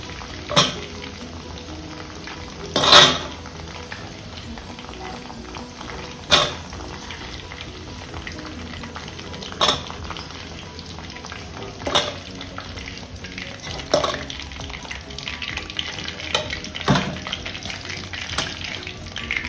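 Drumsticks frying in hot oil for a pickle, a steady low sizzle with occasional louder crackles and pops spaced every few seconds, close up and alone without talk.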